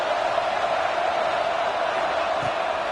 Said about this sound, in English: Guns up, and so is the noise. The crowd electric, trying to help Tech on this 3rd down.